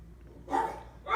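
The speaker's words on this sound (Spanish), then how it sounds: "Denme un segundo que mis perros ladran" Dogs bark indoors in a quick burst, followed by a second bark starting at the end, at moderate distance with no talking over them.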